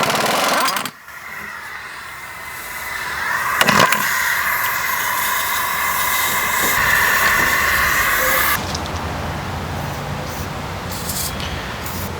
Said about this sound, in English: We'll get a little penetrating lube on it, kind of let it soak in just for a minute or two.